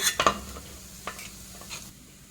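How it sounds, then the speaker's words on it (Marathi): Gulab jamun made from a premix fry in hot oil, a soft steady sizzle with a few sharp clinks and scrapes of a utensil near the start and scattered small knocks afterward, no voices. "आता आपण ह्याच पद्धतीनं सर्व गुलाबजाम तळून घेऊया"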